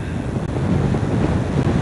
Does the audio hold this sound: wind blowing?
yes